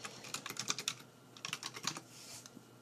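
Fast, irregular clatter of a computer keyboard as code is typed, bursts of quick keystrokes with short pauses, close and fairly quiet.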